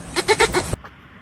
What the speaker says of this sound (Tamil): இதான் செம்மறி ஆடு கூட்டம்.